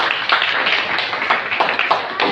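A church congregation claps together for Jesus in a loud, dense burst of many hands that is sustained and close, with uneven accents throughout.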